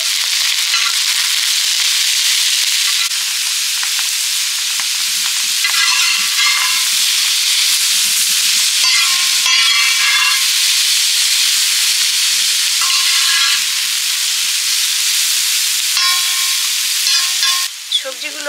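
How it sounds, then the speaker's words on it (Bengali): Vegetables including carrot stir-fry for egg chicken chow mein, a loud continuous sizzle with repeated scraping and tossing strokes throughout. "সবজিগুলো ফ্রাই হয়ে গেছে।"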